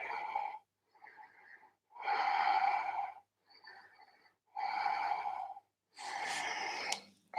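Slow, deep yoga breathing close to the microphone during a seated twist, with long audible inhales and exhales in a steady rhythm separated by short pauses, and no talking.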